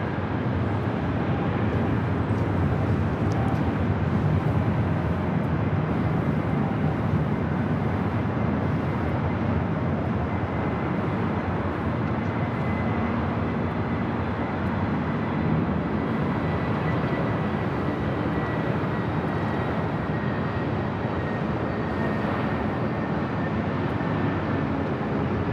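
An American Airlines Airbus A321neo arriving at LAX passes as a steady, continuous broadband jet roar at moderate distance, holding even throughout with no voices.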